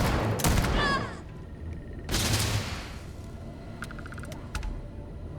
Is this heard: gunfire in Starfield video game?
yes